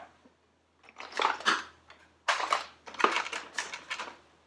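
A tool gives a part several light taps to seat it, producing a short series of sharp, close knocks in two clusters.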